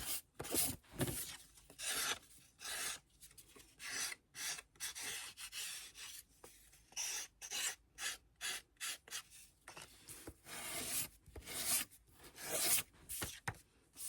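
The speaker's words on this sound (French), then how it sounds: "Je vais venir avec ma lime enlever les petits melons, comme d'habitude." Hand file rasping along the edges of a paper scrapbook bottle label, short rhythmic strokes repeated a dozen or more times close up, quiet with brief pauses between passes.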